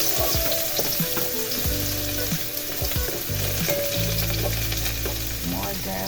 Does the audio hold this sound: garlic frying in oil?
yes